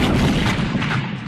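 A single cannon blast booms out, a heavy low rumble that fills the moment and decays over about a second, with no voice over it.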